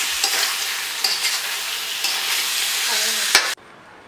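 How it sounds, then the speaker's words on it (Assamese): Potatoes fry in a pan with tomatoes for a home Sunday lunch, giving a loud continuous sizzle with occasional stirring scrapes before it cuts off abruptly near the end. "এতিয়া অলপমান ভাজি ল'ম। আলু দিলোঁ"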